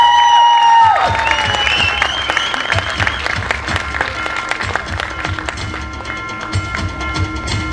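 An audience at the Kokan Mahotsav 2025 festival applauds Shahir Ramchandra Ghanekar with sustained, dense clapping that follows a short opening tone and gradually thins out.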